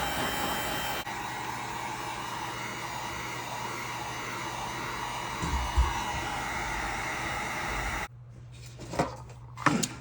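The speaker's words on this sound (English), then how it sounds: "I'm gonna go ahead and use this heat gun to speed up the process here for drying it" A heat gun blows steadily while drying paint on a handmade Valentine's Day gift, a loud continuous airy roar that runs for several seconds and then cuts off abruptly, leaving a few faint handling knocks.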